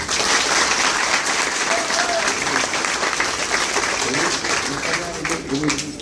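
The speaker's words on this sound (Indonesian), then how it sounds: "Tepuk tangan untuk kalian semua." Sustained applause from a school audience during an education official's visit to SMA Negeri 19 Medan, steady and dense clapping that fills the room from start to finish, with voices mixed in.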